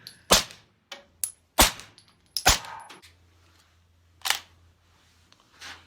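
Suppressed gunshots firing subsonic 147 grain bullets, a handful of sharp, fairly quiet cracks spaced irregularly over a few seconds, each decaying quickly against near silence.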